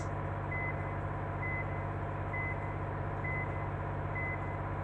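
A truck's reversing alarm on a hill road beeps about five times at an even one-second pace over a steady low engine rumble, fairly quiet and unaccompanied by talk.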